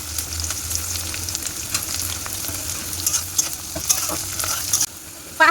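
Carrots sizzle in hot oil in a wok for chow mein, a steady crackling fry punctuated by repeated scrapes and knocks of the stirring spatula, then the sizzle softens abruptly near the end.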